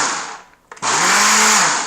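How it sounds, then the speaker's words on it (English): A blender pulses salad dressing: a short stuttering start, then a steady loud motor whir that runs on without a break, close and alone with no voices. "Turn the power on. Here we go. Just kind of pulse it."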